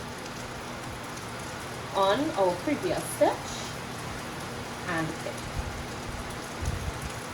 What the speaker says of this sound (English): I love the smell of rain.